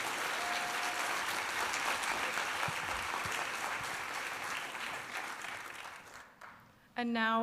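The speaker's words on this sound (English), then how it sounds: "I can't hear those applause, ladies and gentlemen." An audience at a fall convocation claps in sustained, dense applause that gradually thins out and fades, ending as a voice begins speaking over a microphone.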